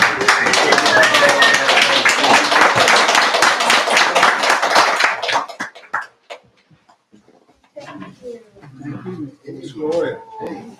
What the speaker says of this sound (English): I'd like each of you to rise and give Miss Gloria Moore a round of applause